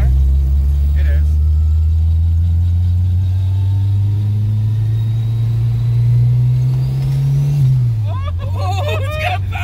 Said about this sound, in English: We are driving the Starion.